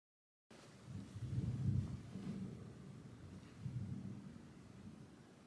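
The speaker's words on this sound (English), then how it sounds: "it is thundering outside" Distant thunder rolls outdoors during a storm, two low rumbling swells separated by a quieter stretch, soft and far off with no voices.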